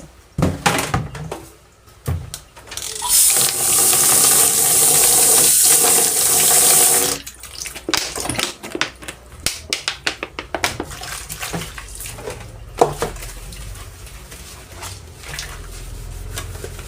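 Dishes are washed in a kitchen sink. A steady rush of tap water runs for several seconds, followed by irregular clinks and knocks of dishware being handled up close.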